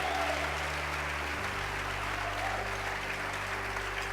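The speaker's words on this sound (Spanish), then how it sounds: "Dale el aplauso fuerte." A church congregation applauds loudly at a Lord's Supper service, a dense, steady wash of clapping that holds for several seconds over a low hum.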